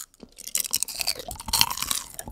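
Someone bites and chews tanghulu, candied shine muscat grapes with a hard sugar coating, in a close series of brittle crunches and wet chewing, with no talking.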